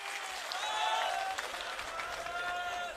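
A crowd at a farmers' gathering applauds steadily, a dense wash of many hands clapping at a moderate distance, with faint shouts mixed in.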